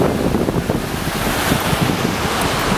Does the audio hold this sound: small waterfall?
yes